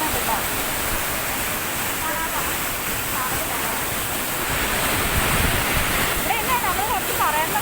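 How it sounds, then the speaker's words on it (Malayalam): Chiyapara waterfall sends up a steady, loud rushing roar of falling water that fills the whole clip without a break, with wind buffeting the microphone and faint voices in the background. "അപ്പം നമ്മുടെ ചിയാപ്പാറ വാട്ടർഫോൾസിലാണുള്ളത്"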